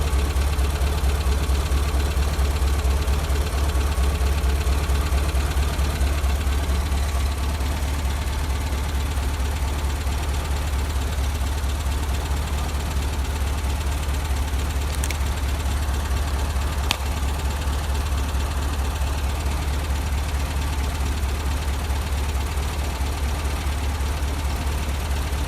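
A 1974 VW Baja's engine idles as it warms up, giving a steady, loud, low rumble with a faint ticking texture that continues unchanged for the whole stretch, with no voices.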